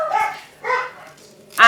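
A dog in a home barks sharply three times, loud and close, with short uneven gaps and a slight whimpering edge between the yaps.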